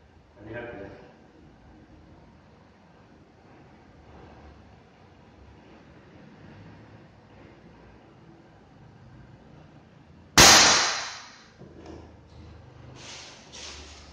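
A PCP Monel OD34 big-game air rifle fitted with a suppressor fires a single sharp, loud shot that stands out against a faint background of low voices and room noise, its report dying away quickly.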